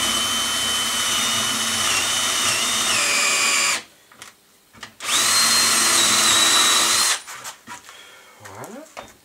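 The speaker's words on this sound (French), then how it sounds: "On perce." A power drill bores a hole in wood to mount a paper towel holder. Two loud, steady whining runs are separated by a short pause of handling clatter, and the motor winds down at the end.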